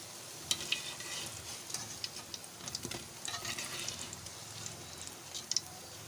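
Potato and cabbage pakoras frying in hot oil give a steady, quiet sizzle, broken by occasional small pops and light ticking from stirring. The sizzle runs alone, with no talk over it.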